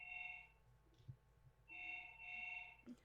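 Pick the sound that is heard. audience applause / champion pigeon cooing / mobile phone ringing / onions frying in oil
mobile phone ringing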